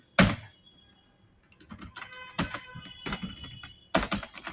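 Keys clatter on a computer keyboard as code is typed into a file in the VS Code editor, coming in uneven bursts of clicks with a few louder thunks and brief pauses, close to the microphone with no talking.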